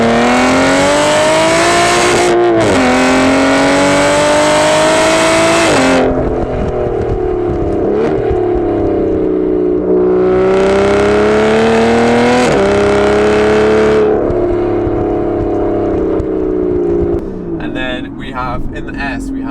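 An Aston Martin Vanquish S engine drones and rises in pitch as it accelerates, with drops at each gear change and a burbling edge on downshifts. It is heard from inside the car, and a person talks over it throughout.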